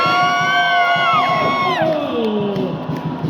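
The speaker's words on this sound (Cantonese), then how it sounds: "俾啲呼呼聲嚟聽下先" A crowd at the Tai Hang fire dragon dance in Hong Kong, held for the Mid-Autumn Festival, lets out loud, close whoops and cheers, the voices rising and then sliding downward in pitch together.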